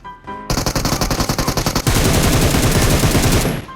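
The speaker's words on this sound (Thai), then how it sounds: "กำลังยิงบอทอยู่เลย" Rapid automatic gunfire in the PUBG Mobile battle royale game, loud and close, a short burst of quick shots followed by a denser sustained volley that fades near the end.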